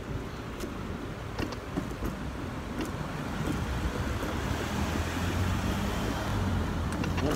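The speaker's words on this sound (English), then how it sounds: "This is a night drive." Car driving on a road at night: steady interior road and tyre rumble with engine hum, close and moderately loud, with occasional small knocks and rattles throughout.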